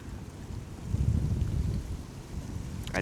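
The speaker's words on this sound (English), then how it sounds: "the wind is just too crazy" Strong outdoor wind buffets the microphone with a steady low roar that swells slightly and keeps going for the whole three seconds.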